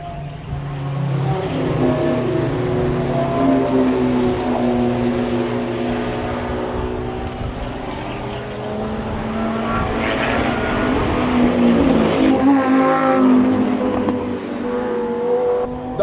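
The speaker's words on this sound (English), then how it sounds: "I'll say the Huracan sounds the best." A Lamborghini Huracan supercar races past at Mallory Park. A loud engine note rises and falls through the gears, shifting pitch as the car draws near and passes, and a second engine joins in later.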